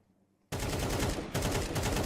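Sudden bursts of rapid, loud Counter-Strike gunfire with a brief gap, dense and sustained automatic shots.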